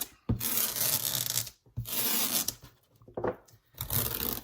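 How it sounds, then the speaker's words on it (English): A strip of tape is flattened by hand, giving loud, close rubbing and scraping strokes in several bursts with brief pauses between them. "I'm going to flatten my tape"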